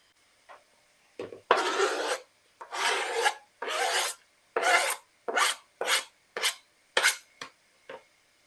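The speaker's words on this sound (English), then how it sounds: "But when you grate it like this, much quicker, much easier." Ginger being grated finely by hand, producing a series of about a dozen separate rasping strokes with short gaps between them, close and crisp, with no speech.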